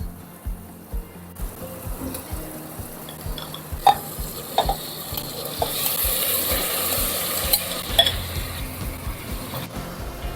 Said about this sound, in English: saute the mutton pieces for 4 to 5 minutes